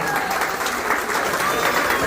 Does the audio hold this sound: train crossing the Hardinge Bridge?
no